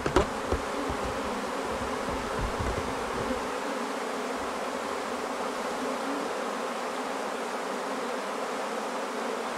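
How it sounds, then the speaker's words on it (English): A honeybee swarm fanning inside a hive box makes a dense, steady buzzing hum, close and constant throughout, with no voices. "I got them fanning down here in the box now."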